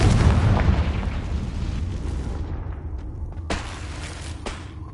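A Confringo fire spell in Hogwarts Legacy bursts with a loud, deep boom that rumbles and slowly fades, followed by a couple of sharper cracking pops.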